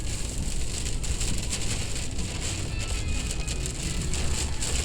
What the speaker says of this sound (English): Oh, it's a lot of rain.